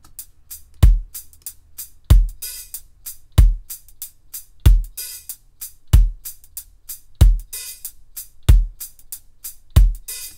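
A programmed reggae drum beat plays in a steady loop with heavy, booming kicks and sharp, loud hi-hat and snare hits, close and punchy, with no talking.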